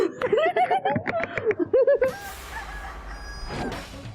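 A rooster crows loudly and close up in a burst of harsh, warbling calls, followed by a quieter stretch of background noise.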